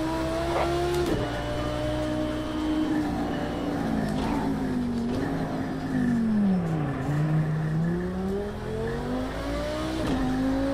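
Race car engine in the Project Cars 2 video game revving and shifting, pitch climbing and dropping through gears with faint tire squeal, loud and steady with a brief murmur of talk underneath.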